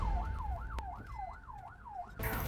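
A Uganda Red Cross emergency ambulance siren wails in fast, repeating rising-and-falling sweeps over low rumbling traffic noise, moderately distant, then cuts off.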